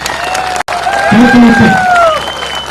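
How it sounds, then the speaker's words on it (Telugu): Audience at a rally for Mallanna clapping and cheering in welcome, a loud crowd swell that builds and carries on beneath a voice and a melodic tone. "విద్యార్థులు, విద్యావంతులు, ఉద్యోగులందరూ కూడా గట్టిగా చప్పట్లతో స్వాగతం పలకాలి వారికి"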